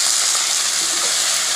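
Spice water from rinsing a grinding stone hits hot fried potatoes, throwing up a loud, steady broadband sizzle that fills the short moment without any voices.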